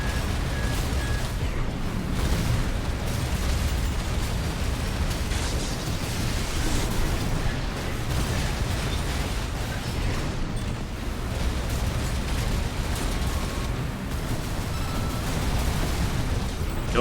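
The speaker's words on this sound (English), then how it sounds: "Yep, missiles." Missile blasts and mech combat in Armored Core VI roar as a dense, continuous rumbling wash with crackling bursts, loud and sustained without clear breaks.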